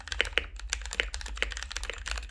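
Keystrokes on a custom mechanical keyboard built in a modified budget case, a quick irregular run of crisp clacks close up with no voices.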